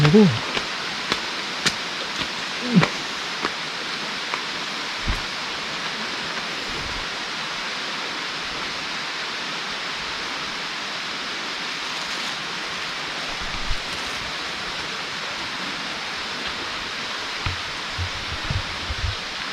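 Rain falling at Nong Pla Pha cave near Thakhek, Laos: a steady dense hiss of close, heavy rainfall, broken by a few faint thumps and scattered low voices.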